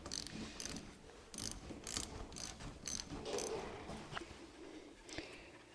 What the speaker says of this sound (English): I'm going to switch back to the broken ratchet. Yeah. Because now we have less torque.